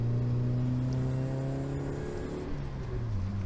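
A Toyota MR2 mk1 engine hums and revs steadily at close range, its tone rising and falling slightly over a few seconds with no talking.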